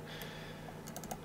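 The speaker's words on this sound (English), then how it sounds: "I'm using H on the keyboard" Key presses on a computer keyboard while flying a spacecraft landing in Kerbal Space Program, heard as a few quick, soft clicks close together near the end, over a steady low hum.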